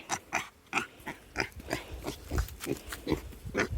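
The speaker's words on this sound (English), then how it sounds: "You want to say hi to the pig? Hi, pig." A pig grunts in a series of short, rhythmic, fairly quiet snorts close by, repeating steadily with brief gaps between them.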